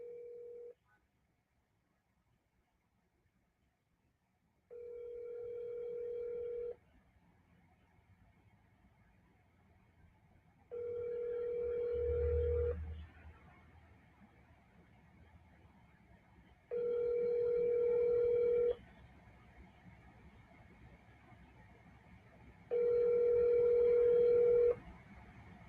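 Telephone ringback tone sounding in four evenly spaced, steady bursts after a short opening tone, moderately loud against faint background hiss, as a call goes unanswered before reaching voicemail.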